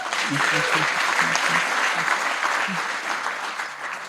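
Steady applause from an audience, dense clapping throughout with a few faint voices underneath, tapering slightly toward the end.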